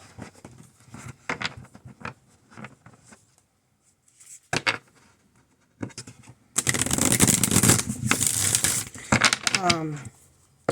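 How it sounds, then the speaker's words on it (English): Soft handling and taps of a tarot or oracle card deck give way to a loud, rapid riffle of cards lasting a few seconds, with a voice speaking briefly around it. "That's really nice shuffle."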